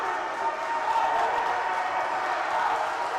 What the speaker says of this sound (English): Do you see how loud it is in here?